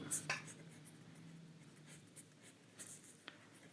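Marker or chalk strokes on a board in a classroom lesson, faint scratchy squeaks in short bursts spread across a few seconds, quiet with a soft background hum.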